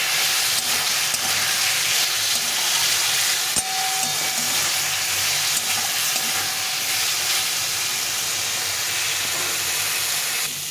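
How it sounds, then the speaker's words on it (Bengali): Chopped tomato fries with spice masala in a hot pan for a potato and pointed gourd curry, a loud, dense, continuous sizzle and hiss, with one brief clink partway through. "টমেটোটা দিয়ে দিলাম, দিয়ে আবার একটু ভালো করে কষিয়ে নিতে হবে"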